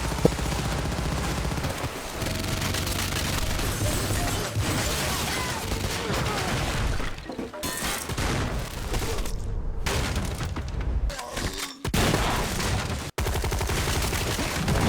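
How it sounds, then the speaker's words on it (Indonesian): Gunfire from triad members in an action film scene, with dense volleys of shots and booms mixed into a loud soundtrack, sustained and close with brief dropouts. "Tembakan para triad tak ada habis-habisnya."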